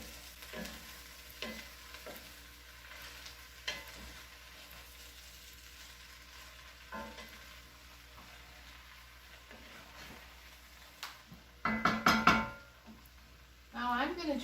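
Sausage and vegetables fry in a pan for jambalaya while being stirred, giving a low steady sizzle with occasional scrapes and clatters, and a burst of louder clanking pan noise near the end.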